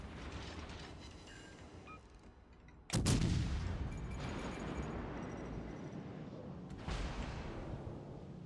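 Ship guns boom in the naval game World of Warships Legends, with two heavy salvos cracking over a constant dense rumble of battle noise, the first louder and closer than the second.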